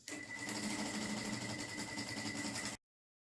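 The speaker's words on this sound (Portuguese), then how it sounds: "agora nós vamos fazer uma costurinha para prender esse tecido na manta R2" A sewing machine stitches fabric onto an R2 quilted blanket panel, its motor running in one steady, rapid, even burst for under three seconds, close and continuous, then stopping abruptly.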